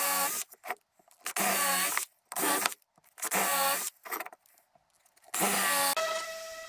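Hardwood furniture parts being sanded up to 220 grit with a power sander, the machine's whine coming in several close, loud bursts separated by short pauses.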